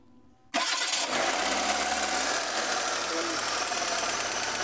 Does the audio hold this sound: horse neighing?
no